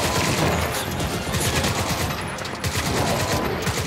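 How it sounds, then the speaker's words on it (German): Gunfire in the video game Crysis 2, fired toward the player, with dense, continuous bursts of shots that sound like a machine gun at a steady loud level for the whole stretch and no talk over it. "Ein Schuss in unsere Richtung."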